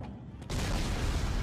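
A sudden loud blast erupts in the video game Dead Space 3 after a brief quieter stretch, followed by a sustained roaring rumble that fills the rest of the moment.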